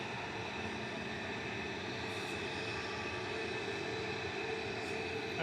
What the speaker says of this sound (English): Another EasyJet just exiting Loiter's lane further down, heading to Naples.